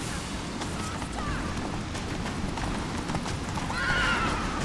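Roach, a horse in The Witcher 3: Wild Hunt, gallops with steady clip-clop hoofbeats under a dense game soundscape, then lets out a loud, rising neigh near the end.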